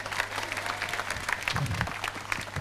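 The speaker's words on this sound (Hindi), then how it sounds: "इधर ताली बजाओ" A group in a workshop room claps steadily at a moderate level, with a low electrical hum underneath and a brief murmur of voices partway through.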